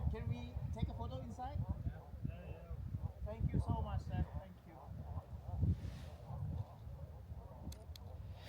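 Several people chatting outdoors in the village of Juta, Georgia, while repeated honking, duck-like croaks from frogs sound nearby, scattered throughout under the voices.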